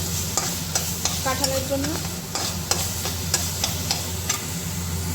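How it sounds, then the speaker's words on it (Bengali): Spice paste sizzles in a pan while being cooked down for a fish curry with fried jackfruit and potato, a spatula scraping and stirring in repeated sharp strokes over a steady frying hiss, with a brief spoken phrase partway through. "মাছটা ভাজা হোক, তখন আমি মশলাটা ভালো করে আর একটু কষে নেবো"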